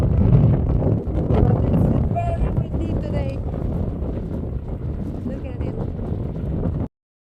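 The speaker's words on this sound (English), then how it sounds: "But it's very windy today." Strong wind buffets the microphone beside the Canal du Midi on a bike ride from Toulouse toward the Mediterranean, a loud continuous roar with gusty swells and a voice talking faintly underneath before it cuts out.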